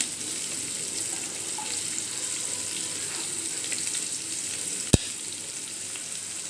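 Onions and green chillies sautéing in a pan for chilli chapathi, a steady soft sizzle and hiss throughout with one sharp click near the end.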